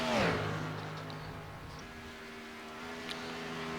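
A race car in a Daytona Xfinity Series racing video game roars past at the start and fades into a steady engine drone that continues at moderate loudness.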